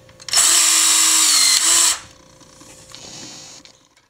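A power riveting tool sets an Ultimate Rivet through a stack of washers, with a loud, close, high whine lasting about one and a half seconds, then a brief softer mechanical whir.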